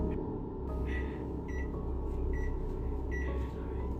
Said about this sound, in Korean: 영상에서 전자레인지가 갑자기 소리를 내며 누가 버튼을 누르는 듯합니다